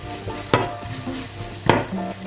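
Onions dropped into hot olive oil in a pan, crackling with a steady close sizzle broken by two sharp bursts as pieces hit the oil and are stirred.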